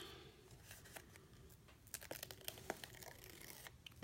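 Adhesive backing strip is peeled off a Christmas tree decoration in short crinkly tearing bursts, quiet and close, growing a little louder toward the end.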